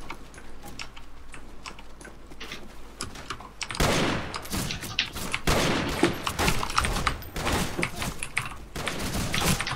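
Shotgun fire in a Team Fortress 2 match: a dense run of sharp, repeated blasts that grows louder after a quieter opening, set among busy in-game noise.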